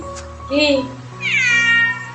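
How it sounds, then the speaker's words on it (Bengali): A hungry cat meows twice close by: a short mew, then a longer, rising and falling cry, with quiet background hum between them. "আমার দুষ্টু বিড়ালটা কিন্তু চেঁচামেচি শুরু করেছে খাওয়ার জন্য"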